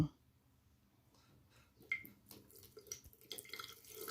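Tap water runs over a pair of eyeglasses being rinsed after a shaving-cream cleaning, starting faint and building into a steadier, louder splashing stream toward the end, with no talking.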